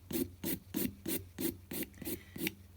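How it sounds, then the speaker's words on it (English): Acrylic gel nails for a pink-and-white set being filed by hand, about nine even rasping strokes in a steady back-and-forth rhythm, close and clear with no talking. "and then start your filing"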